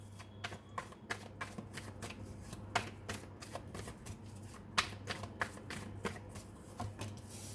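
Tarot cards being shuffled and drawn, a quick run of crisp papery flicks and riffles close by, uneven in rhythm and fairly quiet, with no one speaking.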